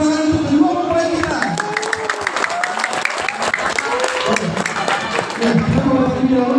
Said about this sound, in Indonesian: mari bersama-sama kita kasih tepuk tangan untuk kedua mempelai kita